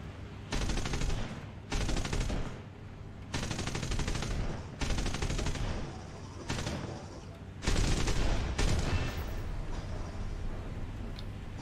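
Aircraft machine-gun and cannon fire aimed at a Bf 109 in War Thunder, coming in several loud sustained bursts separated by short pauses over constant engine drone.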